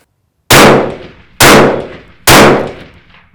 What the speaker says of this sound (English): handful of shots right there, and now the gun is verified, zeroed at 100 yards.